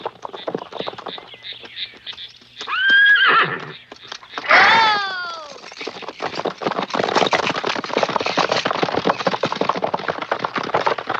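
A horse gives two loud, close whinnies in a row, each rising then falling in pitch, amid busy clattering and thumping noise with no speech.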